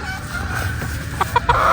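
A Boston Black P-comb gamefowl rooster gives a few short clucks near the end, over a steady background murmur; no one speaks.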